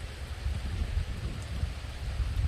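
Steady rain falls outdoors, a continuous close hiss and patter on surfaces with soft low rumbling underneath and no voices.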